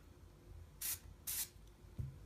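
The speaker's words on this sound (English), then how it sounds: "I'm going to go ahead and I'm going to spray it on my hand." Two short, crisp bursts of spray foundation mist onto a hand, close and quiet, each under a second with a brief pause between, followed by a soft low thump.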